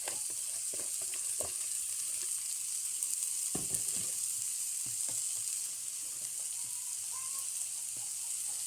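Egg frying with Mysore spinach (hedge spinach) in a pan for a Kerala thoran, giving a steady close sizzle throughout with a few soft scraping knocks from stirring and no talk.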